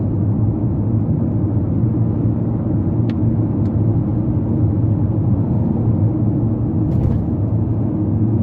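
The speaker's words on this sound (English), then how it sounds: "Doing 90 kilometers an hour, country road, surface isn't super smooth" A 2023 Kia Seltos with a CVT cruises at 90 km/h along a rough-surfaced country road, giving a steady low cabin rumble of engine and tyre noise throughout, with a few faint ticks and no speech.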